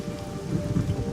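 Steady rain falling in the Namibian desert, a dense, continuous patter of drops on the ground with a low rumbling undertone, close and even throughout without any voices.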